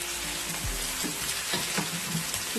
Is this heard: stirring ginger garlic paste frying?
yes